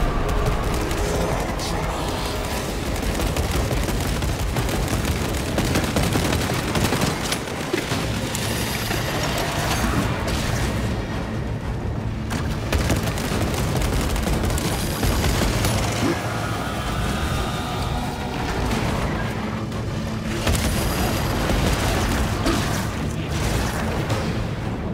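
Heavy gunfire pours into a Neurothrope in Warhammer 40000 Space Marine 2, a dense continuous barrage with booming impacts and explosions under battle din, with voices talking over it.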